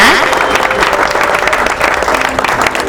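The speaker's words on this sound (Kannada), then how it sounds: "ಚಪ್ಪಾಳೆ ಹೊಡೆಬಿಡ್ರಿ ಒಂದ್ಸರಿ" An audience at a live comedy show claps steadily and loudly throughout, a dense continuous wash of applause from many hands close by.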